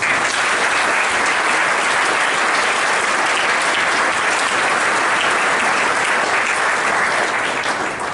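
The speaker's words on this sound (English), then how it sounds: "please ask you to join me in a round of applause" A large audience claps continuously at an officer candidate school presentation evening, a dense, loud, even roar of applause lasting the whole stretch without a break.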